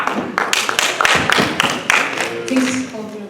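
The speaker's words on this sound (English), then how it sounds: "Please hold your applause." Audience at a Santa Clara County, California candidate forum breaks into scattered applause, irregular claps and taps of moderate loudness, with a voice speaking briefly near the end.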